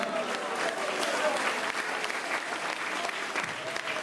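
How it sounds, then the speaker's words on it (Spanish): A church congregation claps steadily at a youth week service, a dense, even wash of applause that lasts the whole stretch at moderate volume, with no voice on top. "Regálele al Señor un aplauso de corazón."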